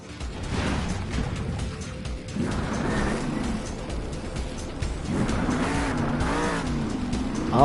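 The Avenger monster truck, driven by Ryan Disharoon, roars around an arena floor at a Monster Jam show in Salt Lake City, its engine revving loudly and rising and falling in pitch over a constant crowd and arena wash.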